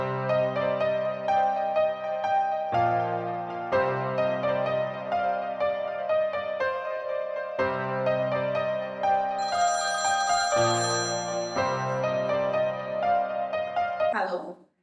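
A phone's ringtone plays through an outgoing call, a melodic electronic tune repeating in steady phrases at moderate loudness before cutting off abruptly.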